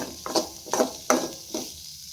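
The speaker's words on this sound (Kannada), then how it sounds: "ಮತ್ತು ಅತ್ತ ಬೆಳ್ಳುಳ್ಳಿ ಪೇಸ್ಟನ್ನು ಹಾಕ್ತೀನಿ ಸ್ವಲ್ಪ ಎಲ್ಲ ಹುರ್ಕೋತೀನಿ" Garlic paste frying with sliced okra in a pan, stirred in four rhythmic strokes, each bringing a burst of sizzle and scraping at close range.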